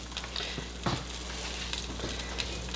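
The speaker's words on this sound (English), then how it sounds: "that's some of that liquid, maybe some spinach hitting the burner" Liquid and spinach sizzle on a hot burner while tortellini cream sauce is made, a steady close frying hiss with brief louder spits and crackles throughout.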